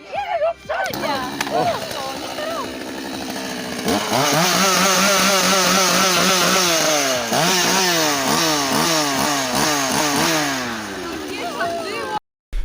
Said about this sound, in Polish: Bagieta masz chujową cichą piłę